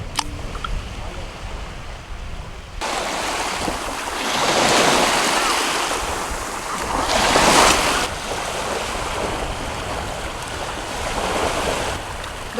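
Surf washing onto the shore of the Arabian Sea in Qatar, a steady broadband rush that swells in two louder surges, with wind buffeting the microphone throughout.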